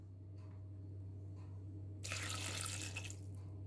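Water is poured into a Monsieur Cuisine Plus food processor bowl while making a Christmas cake with raisins and dried blueberries, a short close splashing gush under a constant low motor hum, with no talking.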